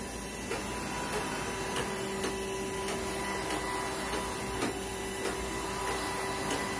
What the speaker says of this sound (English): coming to life on the UV printer.